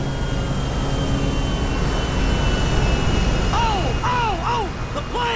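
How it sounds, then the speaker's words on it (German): A loud airplane engine roar rumbles steadily throughout as a plane passes overhead at an airfield in GTA V, with sweeping tonal whoops layered in near the end. "Hallo, Flugzeug."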